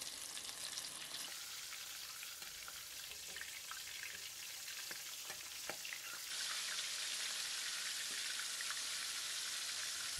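Prawns frying one at a time in hot oil, a dense continuous sizzle with light crackles and a sudden brighter hiss as more go into the pan partway through.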